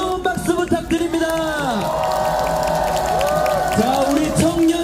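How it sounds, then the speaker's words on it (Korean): A street crowd at a Sinchon election rally for presidential candidate Kim Moon-soo claps and cheers, with whoops and shouting voices over music-like tones, loud and continuous throughout. "자, 여러분 김문수 후보에게 뜨거운 박수 부탁드립니다."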